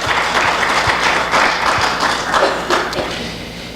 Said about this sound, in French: Est-ce qu'on ne donne pas une bonne main d'applaudissement devant Dieu?